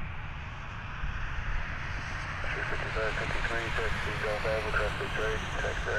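An American Airlines airliner in Astrojet livery, seen at Cleveland, gives off a steady, broad jet engine roar that fills the whole stretch while someone talks over it.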